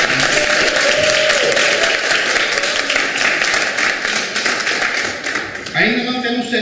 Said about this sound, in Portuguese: eu tenho um aplauso.